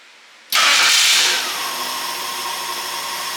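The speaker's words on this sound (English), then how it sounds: "So let's try one more hot restart" A Ford 300 six-cylinder engine in a 1954 International R100 truck restarts hot: a burst of starter cranking catches almost at once, flaring loud before settling into a steady, close idle.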